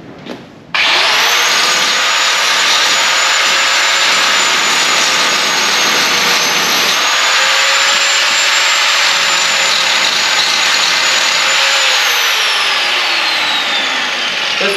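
A worn grinder wheel spins up abruptly and grinds metal, giving a loud, sustained high whine that dips in pitch as it bears down and then recovers, heard close and alone.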